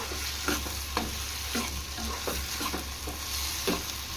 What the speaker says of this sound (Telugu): ఈ విధంగా ఫ్రై చేసుకుంటూ ఉండాలా